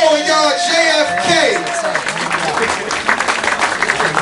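A crowd at a live hip-hop show claps and cheers while an MC talks over them, the noise dense and steady throughout.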